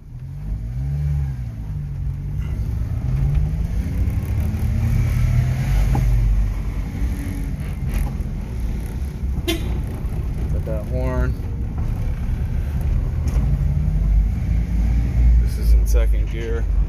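A Subaru Sambar KS4 kei truck engine runs steadily while driving, its pitch rising and falling through gear changes under near-continuous talk in the cab.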